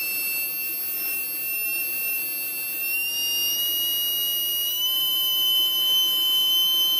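A small low-ohm armature electric motor runs at about 5 volts, emitting a steady, high-pitched whine whose pitch steps upward a few times, with no talking.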